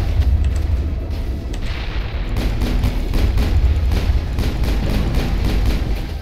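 Grenade blasts in the video game Mass Effect, heard as a steady rumbling barrage of low booms and thuds blending together, loud and continuous with no pauses.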